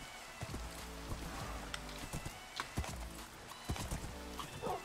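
Horse hooves clip-clop at a steady walking rhythm in a steampunk video game, a soft repeated thudding pattern with occasional sharper clicks, fairly quiet and heard alone without talk.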